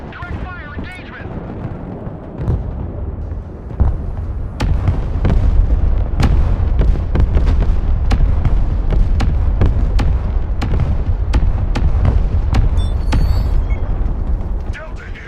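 Artillery fire and explosions in the war video game Broken Arrow crack and boom one after another, building into a dense, continuous barrage of sharp blasts over a heavy rumbling bed.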